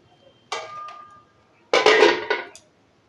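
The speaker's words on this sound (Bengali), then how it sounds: "এবার ঢাকা দিয়ে দেবো।" A lid is set onto a cooking pot of egg and cauliflower curry, making two clattering metal clanks about a second apart, each ringing briefly, near and fairly loud with no talk.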